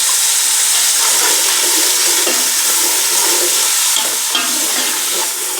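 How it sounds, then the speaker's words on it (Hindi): Spiced masala for matar pulao fries and sizzles in a pan, a dense, steady hiss with stirring scrapes, loud and close, no voices. "मसाला हमारा भून चुका है।"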